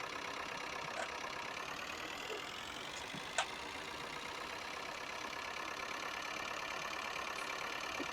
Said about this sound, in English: Put the loader tractor back into its shed.